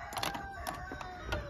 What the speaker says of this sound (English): I can't believe we have a new rooster, cock-a-doodling dooster